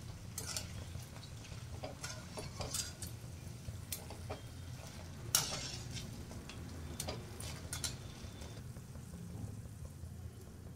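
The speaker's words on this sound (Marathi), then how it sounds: "असे एक गोल करून आपल्याला तेलामध्ये सोडून द्यायचे आहेत" Gulab jamun dough balls fry in hot oil with a steady low bubbling hiss, broken by scattered faint clicks and one sharper clatter midway, with no voices.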